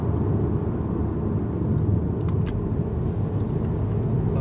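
Steady low tire and road rumble inside a 2019 Mercedes A-Class while driving, a continuous muffled drone with a couple of faint brief ticks and no talking.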